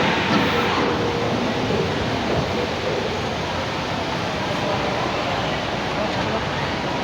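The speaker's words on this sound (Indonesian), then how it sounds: "Kereta api Progo sudah siap di jalur 3" A Progo economy train stands at the Pasar Senen station platform, giving off a steady broadband rumble and hiss that fills the whole stretch at constant loudness, with no distinct individual events.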